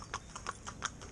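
Shetland mares' hooves clip-clop at a walk, a brisk run of sharp, close knocks in an even rhythm, several clear strikes over about a second.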